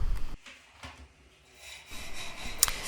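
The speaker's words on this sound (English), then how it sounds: "So here I am working on the light sanding" Light hand sanding on bathroom fixtures, soft rasping strokes that come in short irregular passes, quiet and close with brief pauses between them.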